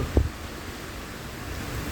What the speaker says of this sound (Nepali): अहिले एकदम ठुलो हुरी अनि पानी